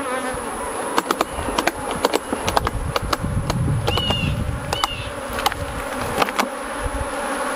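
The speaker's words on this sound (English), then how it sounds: "those bees are not so happy" Dense, agitated buzzing of many honeybees swarming close by at their hive, with sharp clicks and knocks scattered throughout and a few louder bees zipping past.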